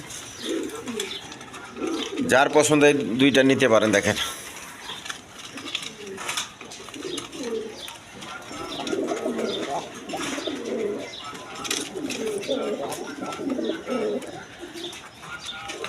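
Pigeons, including a pair of black birds, coo from their pens at a seller's loft, throaty calls rising and falling throughout while someone talks over them nearby.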